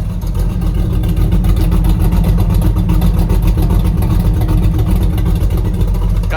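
A 1982 Chevy K10 Silverado pickup truck with a low-mileage motor idles loudly and close by, a deep, rough, steady rumble that holds without a break.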